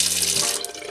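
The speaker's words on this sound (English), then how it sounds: "over here, of course, we have our sink, complete with running water" Running water pours steadily from a sink tap in a converted school bus, a broad continuous hiss that holds level throughout.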